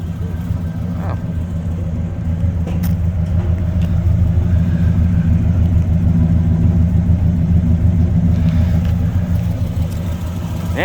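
A 1965 Oldsmobile 442 with a tuned Tri-Power setup idles with a loud, deep rumble that swells as it revs, close by, with people talking over it.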